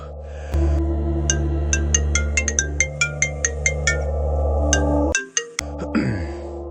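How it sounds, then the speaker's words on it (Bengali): A cartoon phone ringing late at night in a horror story, a loud electronic ringtone of repeated chirping beeps over a steady hum, ending in a brief cut and a short scraping rustle. "এত রাতে আবার কে ফোন দিল রে ঘুমটাই নষ্ট করলো"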